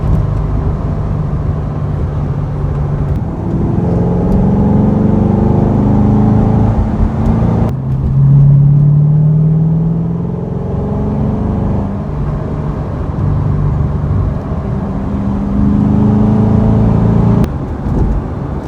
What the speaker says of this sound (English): Love that V8 sound.